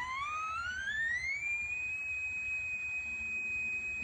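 An HP instrument's audio test tone, sent over an FM transmitter, glides steadily upward in pitch for about a second and a half, then holds as a loud, steady pure whistle with faint overtones.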